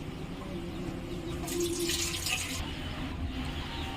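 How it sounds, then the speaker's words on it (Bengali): Flattened rice (chira) being rinsed in water, a continuous close splashing and running-water wash, steady and slightly louder midway, with no voices. "খুব ভালো করে কিন্তু চিড়েটা ধুয়ে নিতে হবে।"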